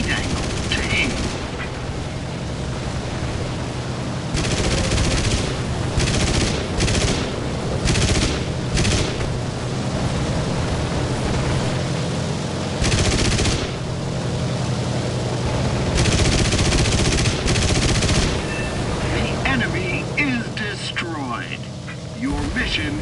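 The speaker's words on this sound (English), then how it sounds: "Turrets located on the plane can use the fire button to shoot at hostile aircraft." Bomber turret machine guns in War Thunder rattle off in repeated bursts at enemy aircraft, loud rapid fusillades separated by short gaps over a steady engine drone.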